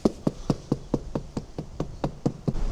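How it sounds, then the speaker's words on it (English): A hammer knocks repeatedly along the side of a concrete form to vibrate the wet concrete, about a dozen evenly spaced hollow thuds under a steady outdoor background hiss. "I like to actually walk along and hit it with a hammer"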